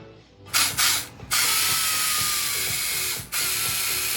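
Hydraulic chainsaw carving claws into the feet of a wooden bear sculpture, a loud steady high-pitched whine and chatter sustained for several seconds, broken by short dips as the cut pauses.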